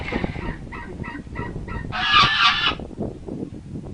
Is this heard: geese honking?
yes